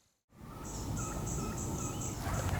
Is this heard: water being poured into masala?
no